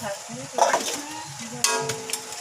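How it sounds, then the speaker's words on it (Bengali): Oil sizzles steadily in a pan while eggplant is fried and stirred, with occasional scraping and clinks of a utensil against metal. "ভাত বেগুন ভাজা তারপরে পাট শাক দিয়ে আমরা ভাজা"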